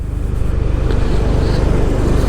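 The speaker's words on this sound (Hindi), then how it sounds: "जो गाड़ी का साउंड है दैट इज़ ऑसम" A Honda Highness CB350 motorcycle engine runs loud and close in second gear with a steady low rumble and throbbing idle, no talking over it.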